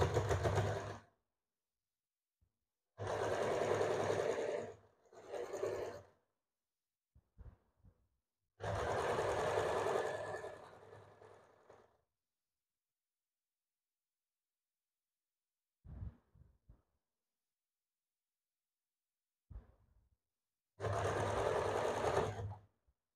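A sewing machine runs on a double katori blouse in four separate bursts of stitching, each lasting a few seconds, with near silence and a few soft clicks between them.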